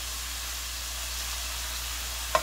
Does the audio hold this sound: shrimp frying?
yes